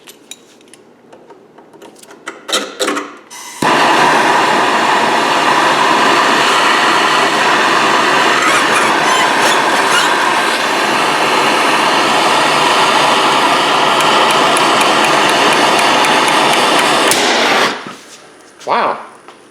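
A metal valve held in a vise bursts from built-up gas: a sudden loud blast launches a long roaring, hissing rush that lasts about fourteen seconds before cutting off, with scattered clanks at either end.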